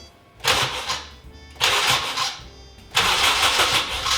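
Honda K20a engine in an Acura Integra being cranked by its starter in three separate bursts, each about a second long with short pauses between, close and fairly loud, with no engine catching and no talking.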